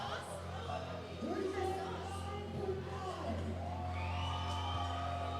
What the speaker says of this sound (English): He's getting the crowd fired up right behind him.